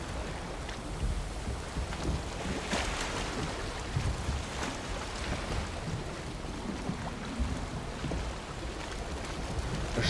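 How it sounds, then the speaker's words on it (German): Steady wind rushes over a sailing boat in the video game Valheim, with broadband whooshing and water wash that stays loud and continuous with slight gusts throughout. "der Wind bläst, kommt immer noch von einer Richtung"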